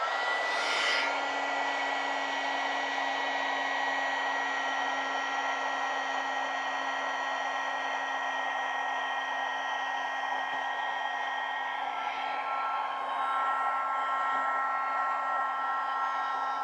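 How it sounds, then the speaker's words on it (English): Heat gun blowing on paint-covered paper, a steady loud whooshing drone with a constant whine that holds for the whole stretch, with no talking. "I'm gonna hit that with the heat gun because got to dry it now."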